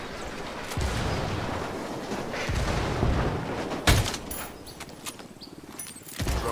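Explosions in the video game Ghost Recon Wildlands, with several deep booms and rumbling blasts at mid distance, one sharper burst standing out, over continuous low battle noise.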